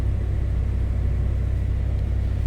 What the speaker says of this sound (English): Let's take a listen to the car first.